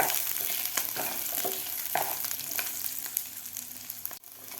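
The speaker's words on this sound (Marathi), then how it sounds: "कांदासुद्धा आपल्याला आणखीन थोडासा यामध्येच भाजून घ्यायचा आहे खोबऱ्याबरोबर" Grated coconut, onion and ginger dry-roasting in a hot pan, with a steady sizzle and frequent scraping stirs up close, with no voices over it.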